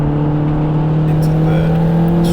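A Caterham Roadsport 135 on track at Cadwell Park holds a loud, steady engine note at high revs, with a faint whir and wind rising over it partway through.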